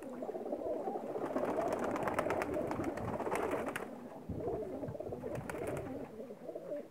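Paired male Pakistani pigeons, kept as khadriala breed birds, coo continuously in a dense, overlapping chorus that stays close and steady with several birds sounding at once.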